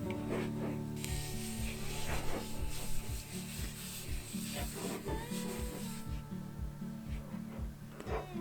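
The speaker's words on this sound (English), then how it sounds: "you need to scrape away anything solid on the trays" Scraping solid waste off the trays of a Nestera chicken coop outdoors in below-freezing weather, with steady rough rubbing and rasping strokes repeating close by, alone without talk.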